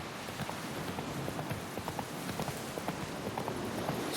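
A horse gallops in The Witcher 3: Wild Hunt, with fast, even hoofbeats running throughout over a hiss like rain. The hooves stay moderately loud and constant, and no voices are heard.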